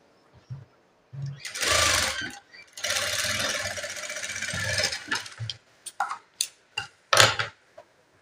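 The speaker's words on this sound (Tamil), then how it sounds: "இப்போ நம்ம இது இது மேலே வந்து ஒரு தையல் போட்டு" A sewing machine stitches blouse fabric in two sustained runs of close, steady motor whirring, separated by short pauses, followed by a few brief clicks and handling knocks.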